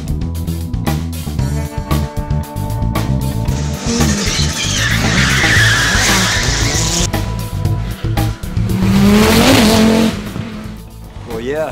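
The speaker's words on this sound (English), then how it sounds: "Big Audi Quattro that Andrew's built. It is an absolute handful." A built Audi Quattro is driven hard at the Leadfoot event, its engine roaring loudly and continuously close by while the tyres squeal and skid through the middle of the run.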